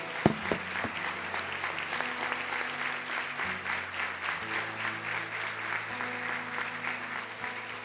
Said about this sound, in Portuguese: Vamos dar uma forte salva de palmas para Jesus.